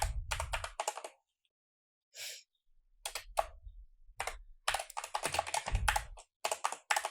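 Fast bursts of key clicks as a command is typed on a computer keyboard, close and clear, separated by brief pauses.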